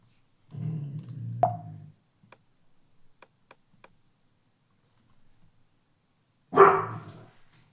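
A dog barks indoors, a short muffled bark burst followed after a quiet stretch with faint ticks by another louder bark, distant and without speech.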